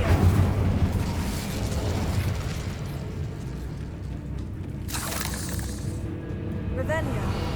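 Incendio fire spell blasts in Hogwarts Legacy, a steady roaring, crackling burst of flame that runs through the whole stretch at a loud, even level, with a voice talking over it.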